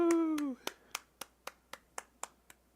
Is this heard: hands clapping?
yes